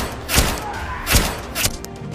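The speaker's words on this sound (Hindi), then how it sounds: "आदमी एक स्पेशल गन निकालता है और कार में फायरिंग करने लगता है।" Cartoon gunfire aimed at a car: a few heavy thumping shots spaced unevenly over two seconds, loud and close, with no talk.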